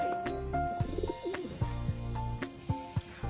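Old domestic pigeons kept in mated pairs at home, with soft repeated cooing and a few short calls close by, alone with no voices.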